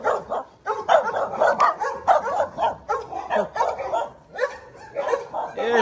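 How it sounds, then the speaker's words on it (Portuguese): A neighbour's dog barks repeatedly in short bursts across the scene, fairly close and steady, alongside occasional talk in a residential street where a car is being washed. "Cachorro do vizinho."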